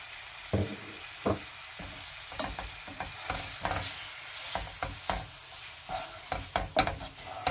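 A saffron mixture for a gondh and egg winter dish is stirred and roasted over low heat, quiet soft sizzling broken by repeated scraping strokes of a spoon against the pan in an uneven rhythm.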